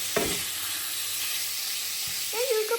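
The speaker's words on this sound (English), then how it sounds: "I'm just going to tip these spices in here, some things in there. Some oregano would be good in there too, actually. And just dry fry that off before it breaks down." Lamb mince and spices dry frying in a pan on a wood-burning stove: a steady sizzling hiss with a few clanks of a utensil, and a brief voice near the end.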